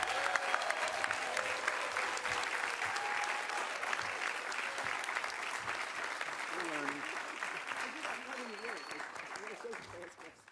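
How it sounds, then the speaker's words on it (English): An audience at a public announcement event at Co-op City gives sustained applause, dense and steady clapping that slowly tapers off toward the end. "let's give a warm round of applause to our Senator Majority Leader Chuck Schumer"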